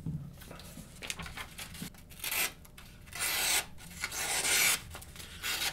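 Lansky Blade Medic sharpener drawing across a D2 steel knife blade, a series of gritty scraping strokes with longer loud passes in the second half, close up, faint voices underneath.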